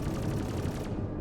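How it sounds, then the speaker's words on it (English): Attrition 5 laser repeaters firing in Star Citizen, a dense rapid burst of energy shots rattling continuously and loudly before cutting off abruptly. "So, Attrition 5. Very powerful laser repeaters."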